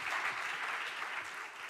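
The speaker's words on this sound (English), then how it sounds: "This is your applause." Delegates at a leaders' discussion on equal societies applaud after a speech, a brief, even wash of crowd clapping heard from a moderate distance.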